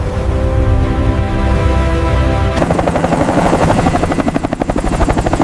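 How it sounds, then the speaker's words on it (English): A helicopter's rotor chops loudly and steadily, shifting partway through into a faster, rattling beat as it passes close by. "Helicopter access adds speed and exclusivity to island travel."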